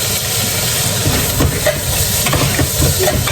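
Chopped tomatoes and curry leaves hit the hot pan for a squid curry, producing a loud, dense, close sizzle and hiss that holds steady, with faint stirring scrapes.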